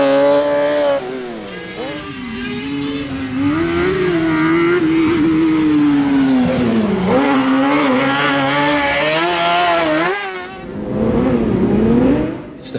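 Race cars at the Shackleton circuit in an Irish summer racing series rev hard and pass close by, engine pitch sweeping up and down through gear changes, loud and continuous with a brief dip before a final surge.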